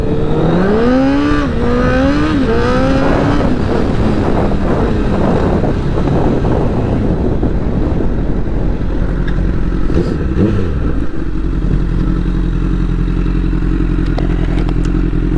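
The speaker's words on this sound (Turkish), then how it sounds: "Makinenin motoru harbiden makine." Motorcycle engine roaring while riding at speed, loud and steady throughout, with rising revs early on and heavy wind buffeting the microphone.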